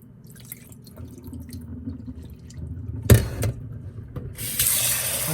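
Tap water runs into a sink as rice is rinsed, a steady low wash with a sharp splash partway through and a brighter gush of running water near the end.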